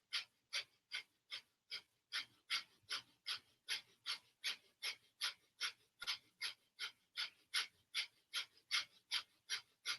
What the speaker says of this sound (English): deep breathing with the same arm position